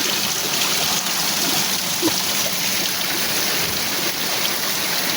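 Tublihon Falls waterfall and its stream running in a mountain setting, giving a steady, broad rush of flowing water that stays constant and fairly close throughout, with no voices.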